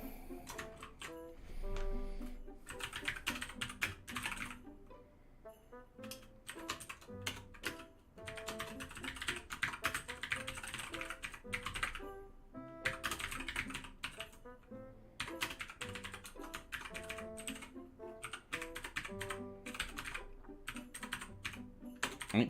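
Steady clicking of computer keys during a coding session, dense and continuous throughout, close and fairly loud, with occasional heavier keystrokes and no talking.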